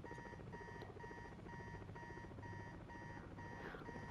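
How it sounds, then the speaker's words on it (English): An alarm rings inside a house in Marvel's Spider-Man 2, giving repeated short electronic beep bursts in an even, rapid rhythm over a low ambient hum, fairly quiet and steady. "let's search the house right after I turn off that annoying alarm."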